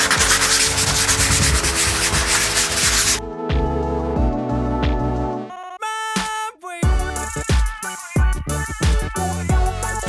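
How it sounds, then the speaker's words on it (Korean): A wooden interior door surface being sanded before priming and painting: steady, loud abrasive rubbing for about three seconds, then tonal musical sounds take over. "샌딩 먼저 할까요?"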